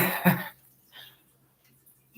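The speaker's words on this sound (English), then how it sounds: "the cough was definitely COVID cough" One short, rough COVID cough close up, followed by quiet room noise and a faint breath.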